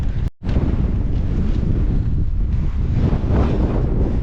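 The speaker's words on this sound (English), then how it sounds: "Still really windy" Strong wind buffets the microphone in a steady, loud roar with low rumbling gusts, briefly cut off near the start.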